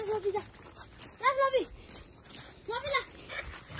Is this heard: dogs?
yes